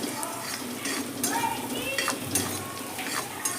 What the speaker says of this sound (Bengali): লো টু মিডিয়াম হিটে পেঁয়াজটাকে ভেজেছি, যার জন্য খুব সুন্দর দেখুন নরম হয়ে আসছে।